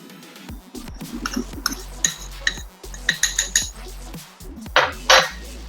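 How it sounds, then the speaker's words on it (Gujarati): Spoon working through two cups of curd with powdered sugar in a bowl for restaurant-style lassi, producing irregular close clinks and scrapes against the bowl rim with short pauses between strokes. "પ્રોપર આપણે પહેલા સ્પૂનથી મિક્સ કરી લઈશું"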